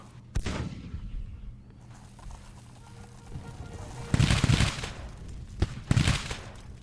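Gunfire in Grand Tactician: The Civil War, a Civil War strategy game: two loud bursts of massed musket volleys cracking out a couple of seconds apart over a low rumbling battlefield ambience.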